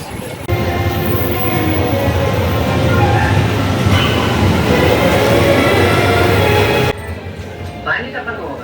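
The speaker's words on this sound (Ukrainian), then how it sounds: "Укрзалізниця вітає вас на борту швидкісного поїзда Інтерсіті Плюс." Inside a Ukrzaliznytsia Intercity Plus high-speed train, a loud, steady rumble of running gear and cabin noise fills most of the clip, then drops to a quieter hum near the end while a voice speaks over it.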